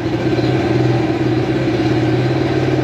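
A steady, loud motorcycle engine drone on an Aracer ECU holds at a constant pitch throughout, running heavy on a rich fuel setting, with a slight revving pulse and no pause.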